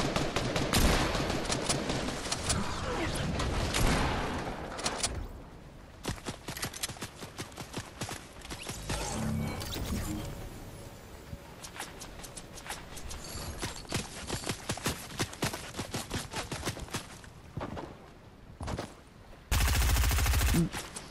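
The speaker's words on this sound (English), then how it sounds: "Bullets." Rapid staccato gunfire during the Astronomical concert event in Fortnite, heard as dense bursts of sharp clattering shots, loud and close, with a few short breaks and no talking.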